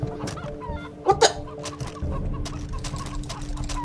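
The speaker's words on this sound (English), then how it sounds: "There's a chicken." A chicken in the game Far Cry 3 clucks in quick, close bursts, with a louder squawk partway through. A voice speaks briefly over the clucking.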